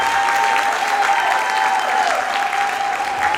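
A graduation ceremony audience gives a steady, dense round of applause for the class of 2023. The clapping is loud and continuous, with a faint tonal hum running through it.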